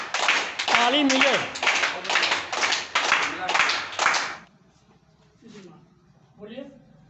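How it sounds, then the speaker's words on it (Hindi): Group clapping from schoolchildren at an International Yoga Day event at a primary school in Deoria, Uttar Pradesh: dense, loud rhythmic applause for about four seconds, then stopping, with faint voices and a few quiet sounds afterward. "ताली मिले।"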